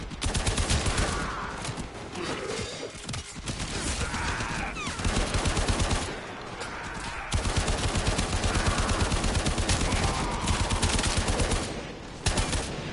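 Rapid rifle fire in the Warframe video game, loud sustained bursts of automatic shots rattling like a machine gun, broken by a few short pauses, close and dominant with no talking.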